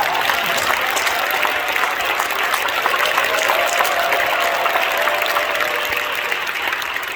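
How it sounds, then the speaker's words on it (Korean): Loud, continuous applause from a church audience at the inauguration of a regional church council president, a dense steady wash of many hands clapping for several seconds. "박수 한 번 부탁합니다"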